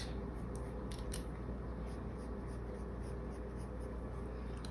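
A sharp pencil scratches steadily across paper while drawing eyebrows, a continuous close-up rasp of short strokes with a few light taps.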